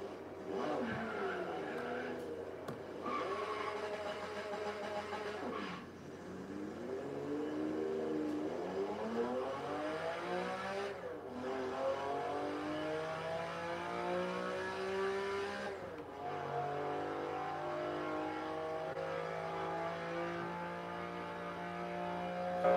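A custom-built car driving in the racing video game Forza Horizon 3 in automatic mode, its engine note repeatedly climbing in pitch and dropping at each gear shift, steady and moderately loud over a low hum.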